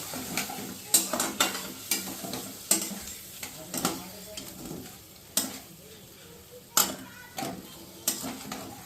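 Cashew paste, green chili paste and poppy seeds being stir-fried with capsicum in a pan, with a steady sizzle and repeated scraping strokes of a utensil at an uneven rhythm, close and fairly loud.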